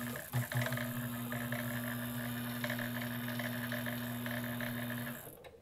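Bernina 830 sewing machine winding thread onto a bobbin, a steady, fairly loud motor whir with a constant tone that runs for about five seconds and then stops.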